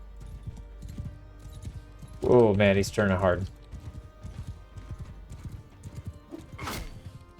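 Horse hooves clip-clop and gallop in a medieval combat video game, a steady rhythmic patter under speech, with a short horse whinny near the end.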